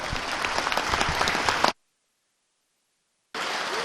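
A burst of crowd applause in the Missouri House of Representatives chamber, steady and loud, cuts off abruptly into silence, then resumes at full strength.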